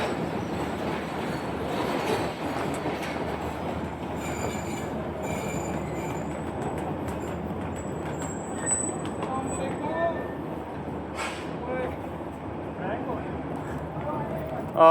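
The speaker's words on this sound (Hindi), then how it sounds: "जाफ़र एक्सप्रेस 4 से आते हुए 9 पर आ गई है" Jaffar Express passenger train arriving at a station platform, a continuous rumble of rolling railcars with occasional wheel squeals and a short sharp screech near the end, with people talking over it.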